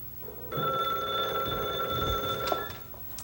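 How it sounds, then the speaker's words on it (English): A telephone bell rings indoors in one loud, sustained burst, then cuts off, with a brief click near the end. "One telephone ring accomplishes what 10 calls from us can't do."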